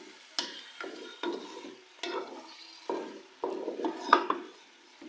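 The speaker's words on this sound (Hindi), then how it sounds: "और अब हम लोग मटन को उस वक्त तक फ्राई करेंगे जब तक कि इसका कलर पिंक से वाइट ना हो जाए" Mutton fries in a pot as a spoon stirs it in repeated scraping strokes, each stroke bringing a short burst of sizzle, close and moderately loud with no talking.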